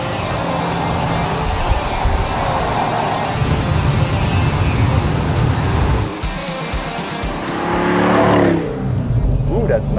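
A car from Richard Petty's collection rumbles as its engine runs and it pulls out of a garage, a loud close drone with rising revs near the end and voices talking over it.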